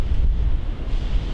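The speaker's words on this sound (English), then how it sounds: "a whole line of trees out here in the woods that are kind of stopping some of that wind" Strong wind blowing outdoors by a line of trees in the woods, a loud, continuous low roar buffeting the microphone with no voices.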